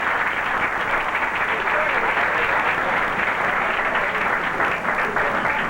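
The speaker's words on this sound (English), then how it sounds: "let's give them all a round of applause" Sustained applause from a large crowd at the Miss Continental Plus 1996 pageant, dense and steady clapping that fills the whole stretch with no break.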